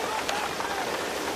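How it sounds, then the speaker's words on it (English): Steady rain falls in an 18th-century scene about Washington's river crossing, a constant soft hiss throughout with faint murmuring voices beneath. "Get in out of the rain, Mr. Knox."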